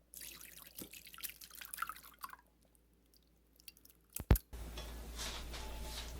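Cooked green squash water strained into a container, with a run of soft pouring and drips, a short pause, then a louder splash and continued trickling.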